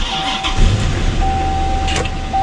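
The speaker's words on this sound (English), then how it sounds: "the starter had to crank the engine, and now you can hear the engine running" A Honda Clarity plug-in hybrid's starter cranks its engine, which then catches and settles into a steady running hum with a thin whine, loud and close, no talking.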